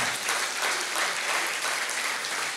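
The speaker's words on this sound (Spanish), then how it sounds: "denle un aplauso al Señor" Sustained applause from a church congregation, a broad, even wash of many hands clapping at moderate distance with slight surges, continuing alone without talk.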